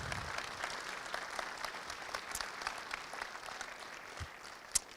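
An audience at a Korean-Era and Vietnam-Era veterans awards ceremony in Groton gives the veterans a round of applause, with sustained, fairly distant clapping across the whole stretch and no talking.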